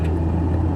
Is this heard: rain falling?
no